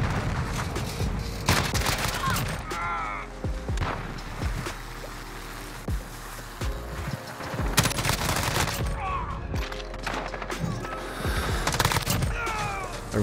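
Automatic fire from an M13 assault rifle in Modern Warfare multiplayer, with loud rapid bursts and single cracks breaking out repeatedly amid background game noise and occasional speech.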